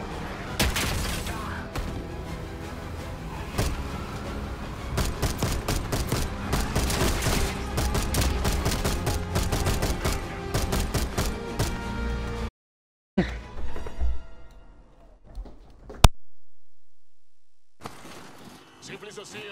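Dense, rapid gunfire in the video game Call of Duty Black Ops 6 rattles on for about twelve seconds amid explosions, then drops to sparse bursts and a single sharp shot after brief silences.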